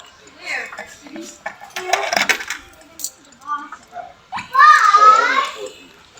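Coins dropping into an e-load vending machine, several bright metallic clinks and a rattling jingle close by, with someone talking in between.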